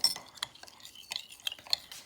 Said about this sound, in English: We're gonna mix this around.